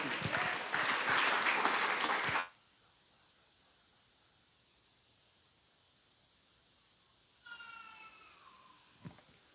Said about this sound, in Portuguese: E você aplauda ao Senhor, em nome de Jesus.